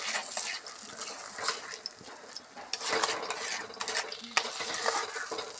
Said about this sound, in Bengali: চিনি দিয়ে ভালো করে নাড়াচাড়া করতে হবে।